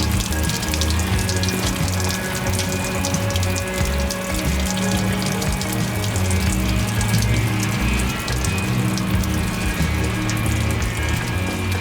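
Water pours steadily over a Jeep XJ Cherokee body during a leak test, a continuous loud splashing and hissing rush with no pauses, up close and without talk.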